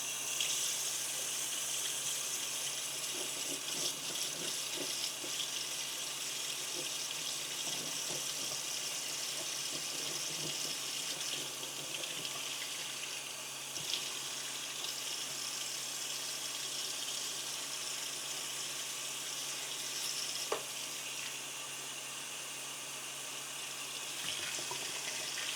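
Tap water runs steadily from a faucet into a sink while a houseplant is washed, a continuous close hiss with small splashing changes and no pauses.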